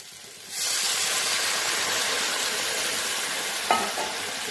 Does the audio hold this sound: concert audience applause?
no